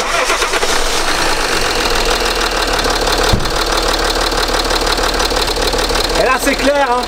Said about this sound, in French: Ensuite vous démarrez le moteur et vous observez.